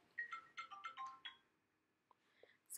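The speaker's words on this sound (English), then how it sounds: "Excuse me, I forgot to put my phone on silent." A mobile phone ringtone plays a short bright melodic phrase of several quick notes, then trails off into faint scattered sounds in a quiet kitchen.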